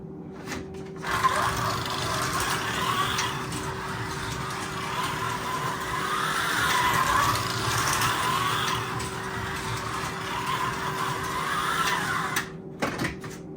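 Carrera BMW slot car running with gear chatter, a faint, continuous buzzing whir with a steady hum beneath it, starting and stopping abruptly.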